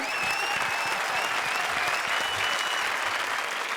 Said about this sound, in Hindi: जोरदार तालियां चारू शर्मा के लिए